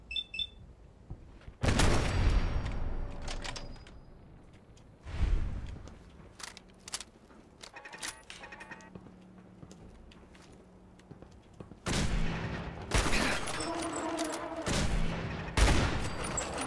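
Gunfire in Fallout 4 arrives in several loud bursts of shots separated by quieter stretches, with a heavy volley near the start and more rapid firing toward the end.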